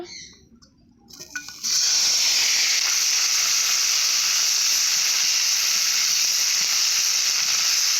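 Bitter gourd frying in hot oil for shukto: a quiet start, then at about a second and a half a loud, steady hissing sizzle bursts up and holds strong and unbroken to the end.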